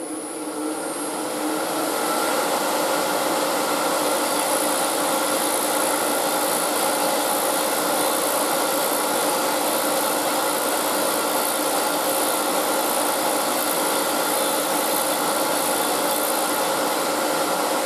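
A Hope Easy Set threading jig cuts a thread, a steady, loud machine whir and grinding drone running continuously and close for the whole stretch after a short rise at the start, with no talk.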